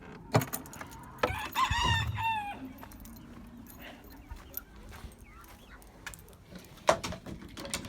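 Rooster and hens in a backyard coop, with a nearby crow rising and falling early on, then scattered clucks and small knocks, a sharp thump near the end.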